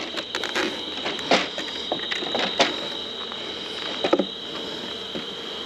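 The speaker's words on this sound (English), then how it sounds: "I'm just sliding it so that way it just pushes the bees, not stomps them, hopefully." Beehive box slid across a hive full of bees at night: a steady insect hum runs underneath while scattered soft scrapes and knocks come close, a few sharper bumps near the end, no talk.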